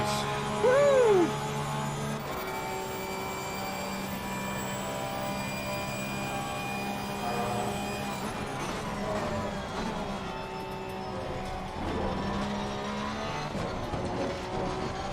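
A Porsche 911 race car in an LFM online racing league session on a track, a steady high engine drone with shifting tones throughout, no one speaking.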